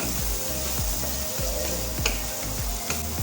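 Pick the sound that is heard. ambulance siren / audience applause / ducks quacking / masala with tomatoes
masala with tomatoes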